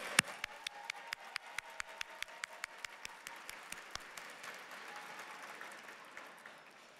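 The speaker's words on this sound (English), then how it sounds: "Can we give a huge round of applause to KACF grantee partners in the room?" Audience applause at a foundation's annual gala begins with a run of sharp, evenly spaced individual claps, then swells into a sustained wash of clapping from across the room.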